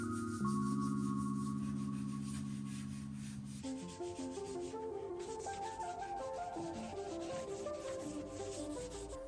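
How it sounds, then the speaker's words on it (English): Steady abrasive rubbing of a 240-grit sanding sponge on wood, continuous and close, with a faint tonal hum in the background. "I went back and sanded everything smooth using a sanding sponge that was 240 grit"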